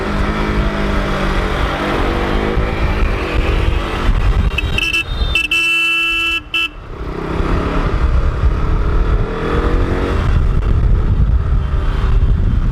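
KTM RC 200 motorcycle rides through city traffic, its engine droning loud and close among surrounding vehicles and honking horns, with a brief dip in the noise midway.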